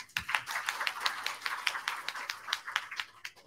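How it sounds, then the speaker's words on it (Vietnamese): Scattered group clapping at a friendly meetup of colleagues in Da Nang, with crisp, fairly quick claps that stay light and even for a few seconds. "mình xin một tràng pháo tay được không"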